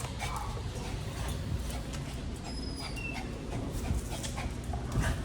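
Shelter dog in an outdoor kennel yard, whimpering and panting close by with occasional yips, steady restless sounds over a low rumbling background.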